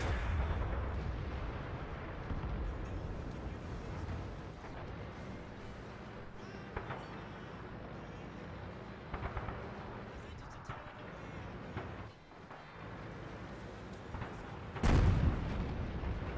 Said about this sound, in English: Artillery's still on you.